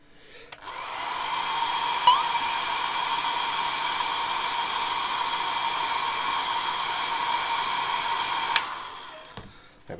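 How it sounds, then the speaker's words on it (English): A hairdryer blasts air to dry glue on a MENG 1/35 AMX 30B2 model tank, a steady close whooshing roar that switches on, holds evenly for about eight seconds, then cuts off. "I'm going to give it a blast with the hairdryer"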